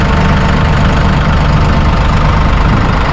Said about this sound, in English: We're just going to stand here just a little bit away and listen to that engine.